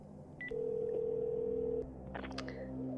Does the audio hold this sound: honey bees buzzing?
no